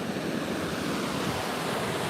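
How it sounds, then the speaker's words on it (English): Ocean surf from large, hurricane-driven waves at San Sebastián, Spain, roars as a steady, loud, broadband wash with wind noise and no pauses. "He said the waves are getting bigger every set."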